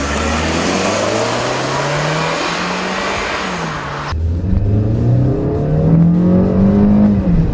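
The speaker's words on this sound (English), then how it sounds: "The engine sounds better from the inside than it does the outside" A 2014 Hyundai Elantra Coupe engine heard from inside the cabin, revving steadily upward under hard acceleration, briefly dropping at a gear change, then climbing again, loud and continuous with no talking.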